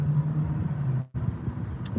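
Engine of a stick-shift GXP, the turbo version, drones steadily from inside the moving car, with a brief dip near the middle like a gear change before the rumble picks back up.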